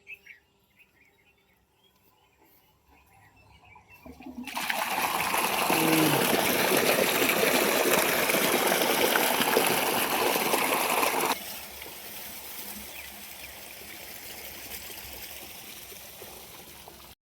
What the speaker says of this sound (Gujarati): હવે બોર ચાલુ કરી દીધો છે.